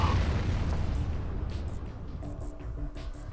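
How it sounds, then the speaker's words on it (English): An explosion in the video game Command and Conquer Renegade bursts loudly at the start, then a deep rumble slowly fades while faint game noises continue underneath. "I heard an explosion."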